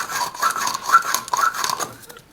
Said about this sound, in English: Turn the deburring tool around and do the inside of the pipe as well.